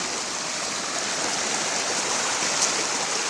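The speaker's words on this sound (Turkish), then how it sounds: "Acısı'dan sonra ikinci minik şelale hem de küçük göl." Small waterfall on the Acısu stream during a trek, a steady broadband rush of falling and flowing water filling the scene without pause, fairly close and even in level, with no voices.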